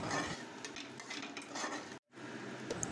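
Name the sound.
stirring and frying spices with cinnamon in a pan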